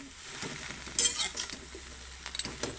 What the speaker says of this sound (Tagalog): Inilagay ko na sa ating kawali. Yan, tapos halo-halo lang. Halo-haloin lang siya.